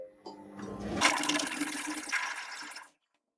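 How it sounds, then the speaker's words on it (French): A Monsieur Cuisine food processor blends butternut squash soup at speed 7, a loud, steady whirring roar with sloshing liquid that starts abruptly, holds for about two seconds, then stops. "Ce que je vais faire, c'est que je vais mixer. Hop, on va faire vitesse 7."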